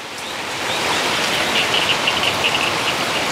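Heavy rain falling across the Mekong Delta countryside, a dense, steady hiss that swells slightly in the first second and then holds evenly, with no voices.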